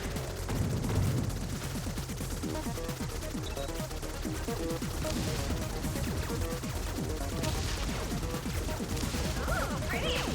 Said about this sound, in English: Ooh, pretty explosion.